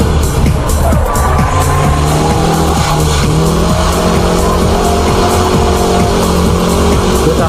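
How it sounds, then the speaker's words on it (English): A drift car works through laps at Ebisu circuit, its engine roaring loud and close with rising and falling revs, while tire squeal and skidding noise run continuously beneath it. "Let's compare the high-speed drift and the show drift laps at Ebisu."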